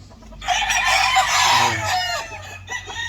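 Rooster crowing rings out loud and close at a chicken farm of local banded gamefowl, one long drawn-out crow with clucking in the background.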